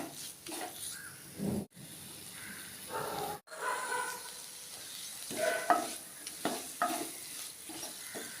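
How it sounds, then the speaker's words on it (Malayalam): Masala for a choora (tuna) fish mezhuk perattiyathu, made with ground chillies, is sautéed in a pan. Intermittent close stirring scrapes and a soft sizzle come in short bursts, broken by two brief gaps of near silence. "മസാല നന്നായിട്ട് വഴറ്റിയെടുക്കണം"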